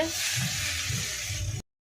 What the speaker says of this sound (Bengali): এখানে এখন বরবটি আলু ভাজা হচ্ছে